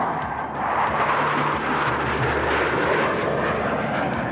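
F-18 jets flying a Diamond Aileron Roll at an outdoor airshow roar continuously overhead, a loud, broad engine rumble that swells and holds without a break.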